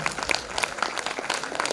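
An audience at a welcoming ceremony breaks into brisk, dense applause, many hands clapping together in a loud, continuous burst.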